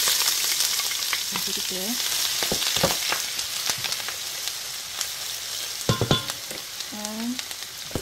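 Chopped onion sizzles steadily in a frying pan, a constant close hiss broken by a few clinks and stirring taps, with a voice speaking briefly over it.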